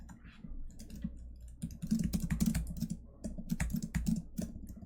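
Code being typed on a computer keyboard gives a steady, fast patter of soft key clicks at close range over a low background hum. The typing comes in bursts with no speech.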